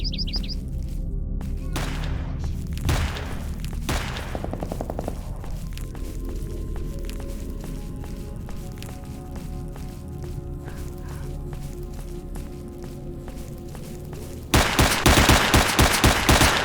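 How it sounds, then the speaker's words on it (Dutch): Gunfire aimed at dogs in the S.T.A.L.K.E.R. Shadow of Chernobyl video game rattles in dense bursts over constant game ambience, closing with a loud, rapid volley of shots. "Er is er ook eentje op die honden aan het knallen."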